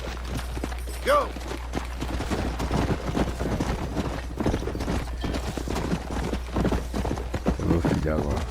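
Horse hooves galloping in the Red Dead Redemption video game, a rapid clip-clop rhythm running throughout alongside a whinny near the start, with game sounds and speech layered over it.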